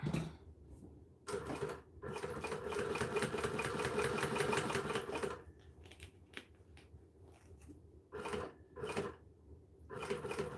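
A sewing machine runs in fast bursts while top stitching along the edge of fabric just inside the seam allowance, with a steady mechanical whir, short pauses between runs and no talking.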